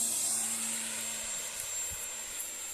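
An FPV model airplane carrying a zoom digital camera flies with its electric motor running, a steady airy whine and hiss at a distance, with a few soft bumps of wind.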